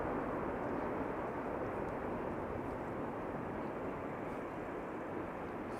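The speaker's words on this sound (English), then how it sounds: "C-17 over Aalsmeer." A C-17 military transport aircraft flies over Aalsmeer, heard as a steady, broad jet roar that holds at an even loudness for the whole stretch, with no voices over it.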